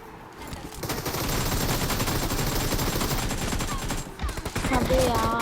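An M24 rifle fires in a mobile shooting game as a dense, sustained burst of gunfire lasting several seconds, loud and close, then a brief pause and more clattering shots.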